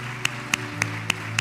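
A church congregation claps in praise during a worship service, with five crisp claps in a steady beat about a quarter-second apart over a sustained musical hum.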